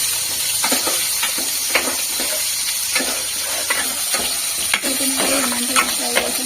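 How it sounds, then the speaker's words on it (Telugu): Onions and tomatoes fry in a pan with a loud, steady sizzle, broken by regular scraping strokes as the spatula stirs them through the hot oil. "వీటిని మంచిగా ఫ్రై చేసుకుంటున్నాను"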